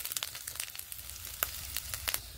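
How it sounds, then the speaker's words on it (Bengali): Turmeric, chili powder and salt sizzle in a pan while being stirred, with crackling pops and scraping over a quiet low hum, fairly faint and close, no talk. "ভালো করে নেড়ে নেব।"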